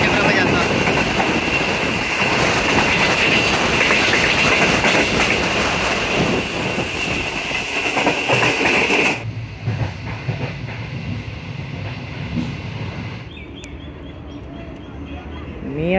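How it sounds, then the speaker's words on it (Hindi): A Green Line superfast express train thunders through Mian Channu railway station, a loud continuous roar of wheels and clattering cars that abruptly drops away after about nine seconds, leaving a quieter rumble and hiss. "ग्रीन लाइन एक सुपर फास्ट क्रॉसिंग करके जा रही है"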